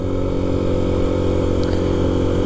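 A motorcycle engine drones steadily up close during a ride through rain and fog in Guatemala, a constant loud hum with no voices.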